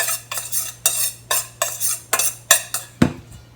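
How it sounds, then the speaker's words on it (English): Tebanaka chicken wings stirred with garlic powder in a bowl: a steady run of scraping, clattering strokes about every half second, ending in a sharper knock. "These are Tebanaka, so put them in a bowl and mix them."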